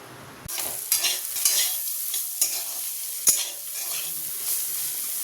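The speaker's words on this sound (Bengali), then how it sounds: "উচ্ছেটা লাল লাল করে ভাজা হয়ে গেছে" Bitter gourd frying in hot oil in a pan, a steady close sizzle broken by repeated scraping stirs of a spatula, starting abruptly and running without talk.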